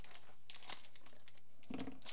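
Pokémon card packaging is cut open with scissors, heard close up as faint crinkling of plastic wrap and a few quick snips, with nobody speaking.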